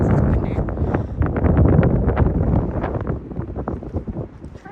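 Strong wind buffets the microphone at a gorge overlook, a loud rumbling roar with gusting bursts that eases slightly toward the end.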